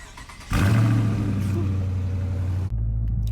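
A Hemi-engined car fires up and idles loudly and steadily nearby, its deep rumble starting abruptly and continuing until a sudden drop near the end.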